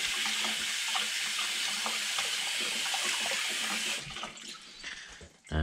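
Tap water runs steadily into a sink to wet a hand during sourdough shaping, a loud continuous splash that cuts off near the end, followed by brief handling noises.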